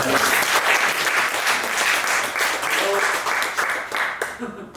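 An audience at a Siamsa gathering at CUA breaks into loud, dense applause, with a few voices mixed into the clapping before it tails off.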